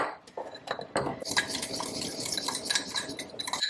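A spoon stirs a small single-serve batch of keto cookie dough with a pinch of salt in a bowl, giving quick, repeated scraping clinks against the bowl at close range, with no voices.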